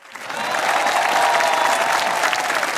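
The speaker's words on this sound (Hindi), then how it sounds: "तो जिन जिनके साथ हो चुका है वो तालियां बजाएं" A studio audience breaks into loud, sustained applause, a dense wash of clapping that swells quickly and holds steady with light cheering underneath.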